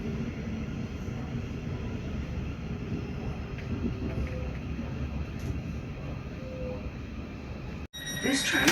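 Class 700 electric train running at speed on third-rail track, a steady close rumble and rushing hum from inside the carriage, ending with an abrupt cut and a brief louder burst.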